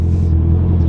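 A 2019 Honda CB650R motorcycle engine with a loud, close, steady low rumble and throbbing exhaust note, heard briefly with no talk.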